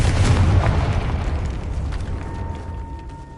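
Confringo fire spell explosion in the video game Hogwarts Legacy: a loud, deep, rumbling blast that fills the clip and slowly decays with a crackling tail.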